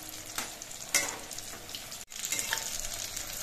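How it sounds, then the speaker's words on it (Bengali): Pumpkin fritters bubbling and sizzling steadily in hot oil as they fry, with a brief clatter of stirring or turning midway and a short break in the sound, close and moderately loud. "বড়াগুলো তেলের মধ্যে দিয়ে ভাজার সময় কিন্তু ফুলে অনেকটাই বড় হয়েছে"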